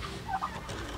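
A farmyard turkey gobbles in a short burst among village poultry, a close, clear warbling call standing alone over a low steady background hum.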